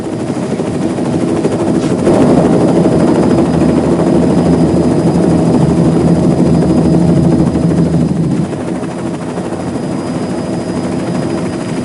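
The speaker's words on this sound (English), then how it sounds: "Is that a helicopter right here? It's landing in the parking lot." A helicopter touching down in a parking lot makes a loud, steady roar of thumping rotor and engine noise. It stays close and dominant for the whole stretch, easing slightly near the end.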